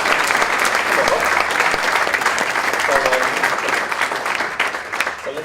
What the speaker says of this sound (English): So, give Bob a round of applause.